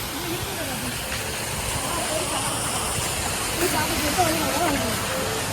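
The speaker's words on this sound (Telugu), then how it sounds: "ఇదిగో వాటర్ ఫాల్స్." Waterfall at VGP Universal Kingdom amusement park in Chennai, a steady dense rush of falling water heard up close, with faint voices of visitors in the background.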